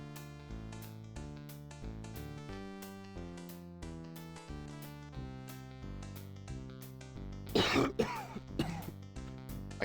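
A man in the Gabriel Knight: Sins of the Fathers adventure game gives a short, rough burst of coughing and throat clearing near the end, heard over steady piano-like background music.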